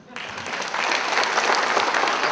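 An indoor audience breaks into applause at a motivational talk, clapping building quickly from a few hands to a dense, sustained round that carries steadily to the end.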